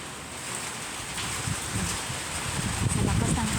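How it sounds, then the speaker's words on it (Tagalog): Strong typhoon wind and rain on a rooftop in Taiwan, a steady broad roar and hiss of gusts and rainfall that swells slightly, close to the microphone. "Sa lakas ng hangin at ulan kasi bagyo nga."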